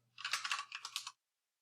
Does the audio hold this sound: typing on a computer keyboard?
yes